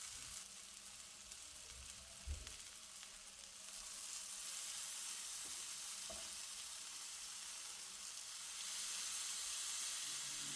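Steak sizzling in a hot pan, a loud, continuous broadband hiss that swells after a few seconds, with a couple of soft thumps as the meat is moved and laid out to keep cooking.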